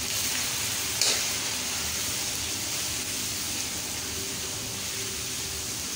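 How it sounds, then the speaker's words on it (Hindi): Boneless chicken frying in a pan for Singaporean rice, a steady broadband sizzle running evenly throughout with a brief louder burst early on, no voices. "हम इसे अच्छे से फ्राई करेंगे।"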